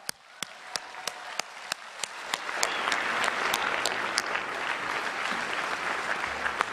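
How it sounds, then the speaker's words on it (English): Applause from a large crowd at a Libertarian Party convention, swelling from scattered sharp claps into a broad sustained roar of hands that carries on to the end. "Give yourselves a round of applause"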